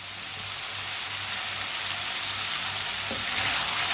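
An egg mixture cooks in a pan over a medium flame with a constant, even sizzle that swells slightly toward the end. There is no talking.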